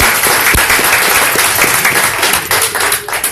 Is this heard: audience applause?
yes